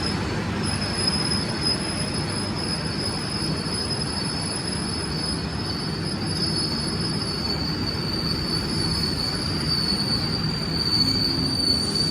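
Loud, continuous high-pitched wheel squeal from a Brawijaya executive passenger train running on Indonesian rail, with steady rumble and rolling track noise beneath and no voices.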